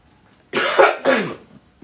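Two sharp coughs in quick succession, close and loud, followed by a short silence.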